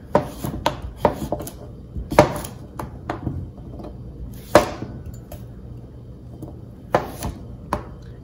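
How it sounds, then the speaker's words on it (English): Knife cutting a cucumber into thick slices on a board, a series of crisp, irregular chops with short pauses between them, close and fairly quiet, no voices. "So for the cucumber, I'm just gonna cut it into kind of thick slices, like this thick."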